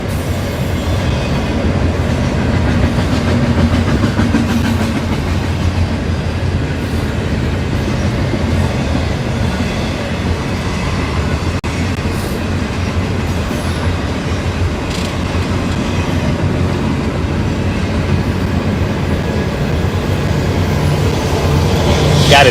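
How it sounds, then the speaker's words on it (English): A freight train passing in Friona, Texas, with a rear DPU helper pushing, produces a loud continuous rumble and clatter of railcars that rolls on unbroken and close by. "Got a DPU pushing down, pushing from the back. Helper pusher, pushing that train."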